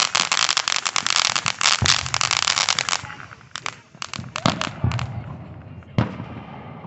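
Fireworks crackle and burst in quick, dense volleys at a July 4th family get-together, loud and close at first, then thinning into scattered pops, with voices faintly underneath.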